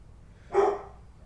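A dog named Chocolate gives a single short bark, fairly faint and somewhat distant, in an otherwise quiet room.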